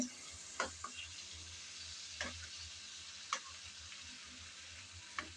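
Drumstick curry with tomato being stirred in a pan, a faint steady sizzle broken by a few sharp spoon scrapes and taps spaced a second or so apart.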